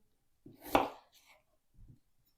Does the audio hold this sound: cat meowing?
no